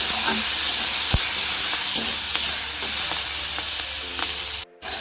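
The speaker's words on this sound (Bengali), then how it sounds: "তেলের ওপরে এবার পেঁয়াজ কলিগুলোও দিয়ে দিলাম।" Onion stalks fry in hot oil in a close, steady sizzle with a bright hiss and faint stirring scrapes throughout, ending with a short cut to silence.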